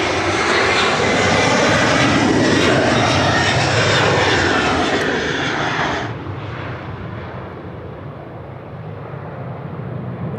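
A Qantas airliner rolls down the runway at Sydney Airport, a loud, steady engine roar that drops away abruptly toward the end and fades into a quieter rumble.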